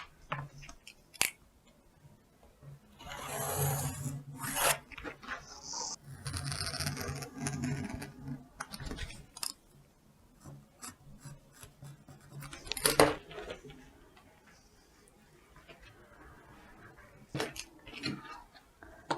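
Pencil tracing around a jacket back pattern piece pinned onto paper, heard as soft scratchy scraping and rubbing strokes in uneven bursts, close and fairly quiet, with no talking.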